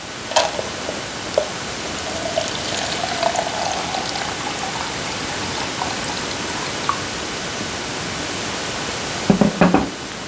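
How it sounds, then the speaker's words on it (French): About 250 ml of water pours into a smoothie shaker for a Herbalife drink, a steady close rushing splash that continues throughout, ending with a few louder knocks. "Voilà, j'ai mis 250 ml d'eau."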